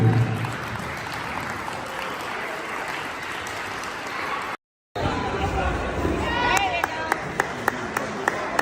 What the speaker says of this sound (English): Please get a big round of applause for our seniors.